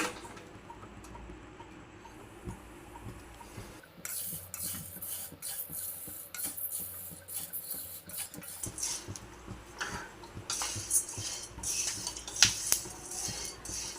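Black peppercorns roasting in a pan over low heat give a steady crackle and pop, mixed with scraping and stirring clatter from a utensil. The noise builds in busier bursts and stays close and moderately loud.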